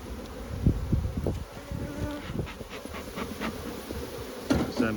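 Honey bees swarm around an opened beehive in an outdoor apiary, a close, steady buzz with individual bees droning past louder, alongside a few dull knocks from handling the hive.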